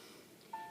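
A mobile phone gives a short, faint electronic tone that sounds once near the end, after a quiet hiss.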